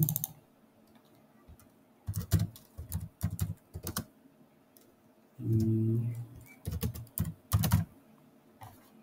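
Bursts of typing on a computer keyboard while entering text in Photoshop: quick clusters of close, crisp key clicks separated by short pauses, with a brief low hum partway through.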